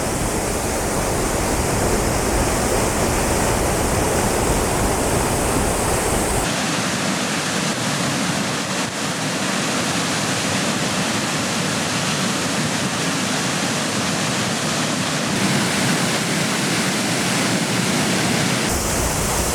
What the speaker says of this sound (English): Wow, really amazing waterfall.